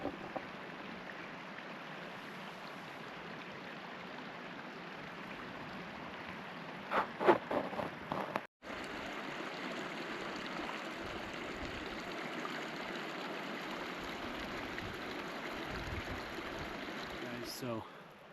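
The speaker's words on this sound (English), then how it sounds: "the creek is just behind the camera there" A creek flows steadily behind the camera in the backcountry, a constant low wash of running water with a brief clatter and dropout midway, otherwise unbroken.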